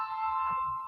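Sustained straight chords from a Roland SP-404 MK2 sampler, a steady held synth-like tone alone for under a second, moderately loud with no talking.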